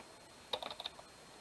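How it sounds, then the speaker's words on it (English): A page number is typed on a computer keyboard, a short quiet burst of about five or six crisp key clicks close by, with near silence around them. "So I can just type up in the top here"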